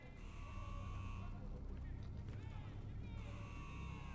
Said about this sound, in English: I'll kill the alarms on this floor.